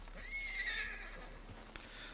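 A horse neighs in Red Dead Redemption 2, a high, shaky whinny lasting about a second that trails off, set against a few faint hoof clops, moderately distant and quiet.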